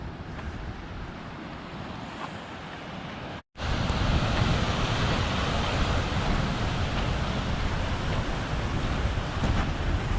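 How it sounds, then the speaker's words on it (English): Rough ocean surf breaking on the exposed side of the point at Point Lobos, a steady loud roar of waves with wind noise, briefly cut silent early on before the surge resumes, continuing throughout. "The ocean is rough on this side of the point."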